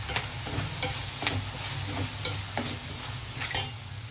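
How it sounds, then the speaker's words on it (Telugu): Tomatoes frying with a spoonful of chili powder for a bhindi masala curry, stirred briskly so a spoon scrapes the pan in repeated bursts over a constant low sizzle, no voices. "కారం వేసిన తర్వాత ఒకసారి బాగా కలుపుదాం అంతాను."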